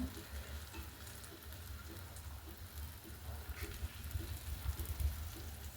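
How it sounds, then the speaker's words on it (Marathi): A soft, steady bubbling crackle of balushahi sweets frying in oil, faint and continuous with slight swells toward the end. "तोपर्यंत आपण दुसरी बॅच ही तळून घेऊया"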